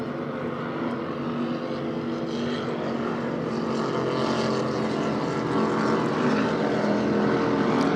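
A 35-foot Fountain offshore racing powerboat in the production class roars past at a super boat grand prix off New York, a loud, steady engine drone that swells slightly as it goes by, with no talk.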